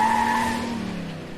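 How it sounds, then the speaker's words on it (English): A single loud, sustained tire squeal from a car skidding, built as a film sound effect for a villain's vicious-sounding 1968 Chevy Impala. It is a steady, piercing screech heard alone that slowly fades over its length. "those tire squeals were ridiculous"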